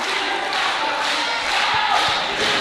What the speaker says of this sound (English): This crowd here in Salisbury is trying to help him rally.